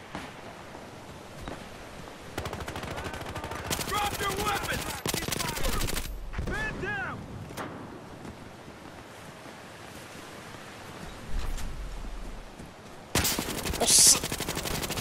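Rapid bursts of automatic gunfire from a first-person shooter video game, with loud volleys clustered in short stretches amid quieter game ambience and a few chatty voice fragments.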